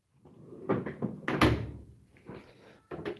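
A metal tool drawer in a shipping container workshop pulled open, a run of sliding rattles and clunks with a sharp bang in the middle and a further knock near the end.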